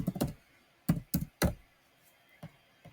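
Keystrokes on a computer keyboard as an account name is entered, a quick cluster of sharp taps at the start, three louder spaced clicks after, then two faint isolated taps, close and dry with no voices.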